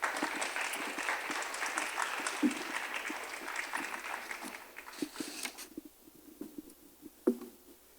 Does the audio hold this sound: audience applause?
yes